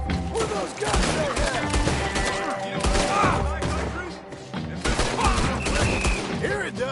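Dense, chaotic volleys of gunfire from Red Dead Redemption 2, shots cracking loudly and repeatedly over a busy layered background with voices mixed in.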